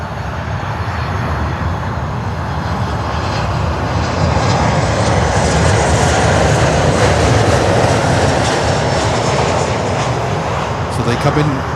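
Jet aircraft engines roar steadily at Miami International Airport, a broad continuous rumble that swells slightly midway and holds loud throughout, with no pause.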